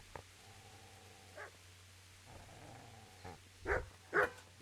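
A dog named Fritz barks in Kingdom Come: Deliverance, a few short, sharp barks and yips scattered over quiet background game ambience, the loudest two close together near the end.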